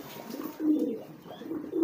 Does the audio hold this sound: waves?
no